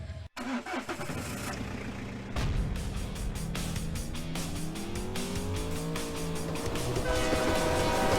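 Train rumbling past in the racing stunt game Stunt Paradise, a loud continuous mechanical roar with rising and falling horn-like tones over steady engine noise, no talking.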